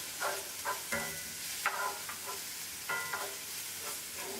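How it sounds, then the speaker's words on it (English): Spaghetti meat sauce browns in a hot frying pan, giving a steady sizzle with several soft scraping strokes from a spoon stirring it, close and moderately loud. "The frying pan was hot. And now I'm going to take a spoon and I'm going to just let it brown just a little bit."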